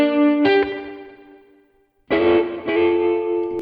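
Electric guitar through a full cabinet with effects and reverb: sustained chords ring out and decay, then a fresh loud strum at about two seconds rings on with a second re-strike.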